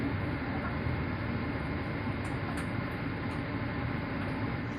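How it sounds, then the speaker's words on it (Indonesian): Inside the GBMS passenger train arriving at Bekasi station, a continuous broadband rumble and rail noise runs throughout, with a few faint high squeaks partway through. "Kereta api GBMS telah tiba di stasiun Bekasi."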